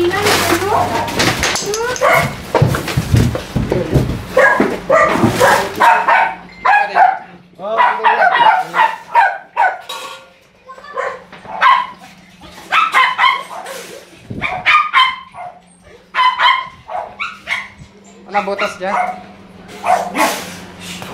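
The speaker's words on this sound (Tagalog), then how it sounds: "Yung aso." A dog barks and yips repeatedly in short bursts amid excited, overlapping talk and shouting, the barks mixed under the voices throughout, with a cobra hiding in a box nearby.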